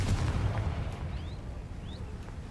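A Confringo fire spell blasts in the Hogwarts Legacy video game, a loud booming burst at the start that rumbles low and fades over a couple of seconds, with faint chirping effects after it.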